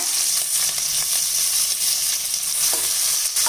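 Steady, loud sizzling of chopped large onions and slit chillies sautéing in hot oil, continuous hiss with faint stirring scrapes.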